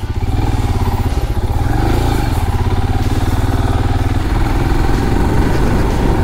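Motorcycle engine running steadily under load on a mountain ride through clouds toward Bilikal Rangaswamy Betta, a loud, close, continuous throbbing drone with even rhythmic pulsing and no talk.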